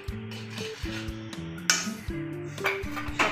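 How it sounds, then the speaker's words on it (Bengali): Kofta curry being mixed in a pan, a utensil scraping and clinking against the metal with a soft sizzle underneath, close and steady over a few seconds, alongside sustained tonal hums. "সব কিছুকে ভালোভাবে মিশিয়ে নিয়ে"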